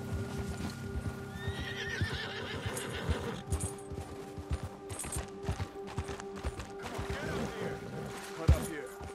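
A horse gallops and neighs in Red Dead Redemption 2. Close, steady clip-clopping hooves run throughout, with high whinnies near the start and again later, alongside some talking.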